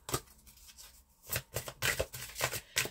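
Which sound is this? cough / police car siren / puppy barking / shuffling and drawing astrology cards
shuffling and drawing astrology cards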